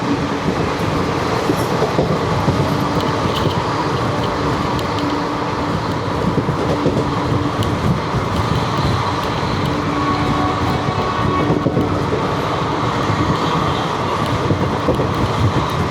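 Steady rumble of the 22953 Gujarat Superfast Express running between Vadodara and Ahmedabad, heard from inside an AC chair car, with continuous rolling noise and faint rail clatter throughout, no talk.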